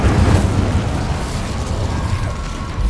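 An Incendio fire spell cast in the Hogwarts Legacy video game: a loud, rumbling whoosh of flame with a deep low-end roar lasting a few seconds, steady and continuous, with no talking.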